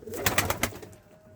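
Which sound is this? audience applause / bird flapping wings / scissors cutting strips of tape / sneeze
bird flapping wings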